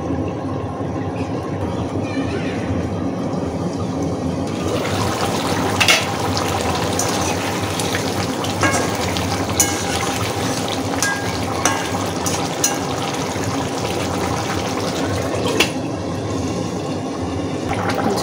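Thin broth for a Rayna fish curry with vegetables simmers and splashes in a pan, a loud, continuous watery bubbling and hiss with scattered sharper clicks and knocks, steady from start to finish.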